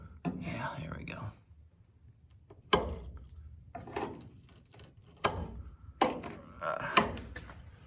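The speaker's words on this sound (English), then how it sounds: "let's see if we can't wrench this thing out of here" Metal scraping and sharp knocks ring out in separate bursts from wrenching a rusted, previously patched panel on a 1968 Porsche 911S barn find, with quiet gaps in between.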